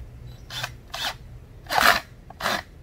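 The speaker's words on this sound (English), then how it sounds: "5/16 inch nut driver. And tighten this up just as tight as you can make it." A 5/16 inch nut driver tightens a no-hub clamp on a sump pump pipe, giving four short ratcheting, scraping bursts spaced about half a second apart, close and fairly quiet.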